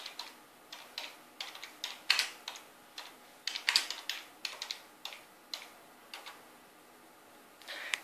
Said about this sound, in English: How we do this is that we type in fastboot OEM unlock.